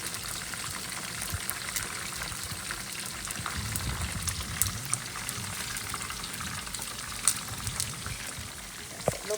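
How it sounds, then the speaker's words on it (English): Chicken feet deep frying in hot oil, a steady close crackle and fizz with scattered pops, continuous and even throughout. "And they deep fry."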